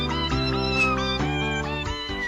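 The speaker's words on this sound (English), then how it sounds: "my cats are begging me to go to sleep" Domestic cats meow insistently at bedtime, several loud, close, drawn-out calls following one another with no talking.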